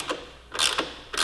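A ratcheting wrench runs nuts off a rear shock bolt on a Yamaha R3 motorcycle, a few brief close clicking strokes separated by short pauses.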